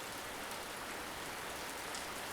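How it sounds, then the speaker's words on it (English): Gentle rain patters steadily as an even, close wash of drops on a surface, with no voices or other sounds. "The rain has eased to a gentle patter as the evening gives way to night."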